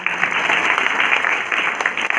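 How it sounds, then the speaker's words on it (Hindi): Sustained applause from a theatre audience honoring the narrator of a Hindi stage play of Premchand's Shatranj ke Khiladi, a dense, steady wash of many hands clapping throughout with no voices on top. "जोरदार तालियां इनके लिए"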